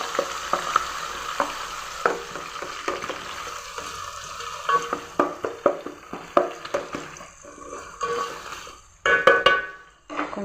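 Three medium onions sautéing in a pan for Chitoor tomato rice, with repeated spatula scrapes and clanks over a low sizzle, close and irregular, growing busier toward the end.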